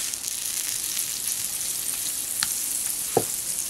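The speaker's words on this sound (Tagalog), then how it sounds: "Meron po tayo ditong sizzling plate." Bangus sisig sizzles on a hot sizzling plate with a constant hissing crackle, close up, punctuated by a brief metallic clank near the end.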